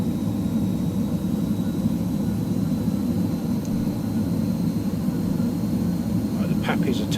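A BAe Hawk T.2 jet trainer in Microsoft Flight Simulator, engine throttling up slightly, heard as a steady loud cockpit roar with a constant whine, alone and unchanging throughout.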